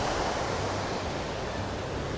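Running water in a canal, a steady rushing wash of broadband noise, even and unbroken for a couple of seconds, fairly faint and with no voices.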